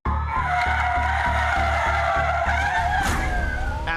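Car tires screeching during a police chase that ends in a collision with a Starbucks storefront, a loud sustained skidding squeal over a pulsing engine roar with a sharp burst near the end.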